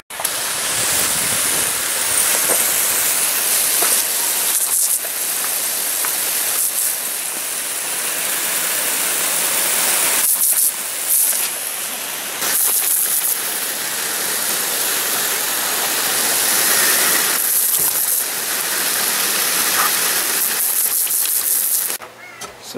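Water pours loudly and continuously to fill a small outdoor pool on level ground, a dense rushing hiss that runs almost unbroken with a few brief dips.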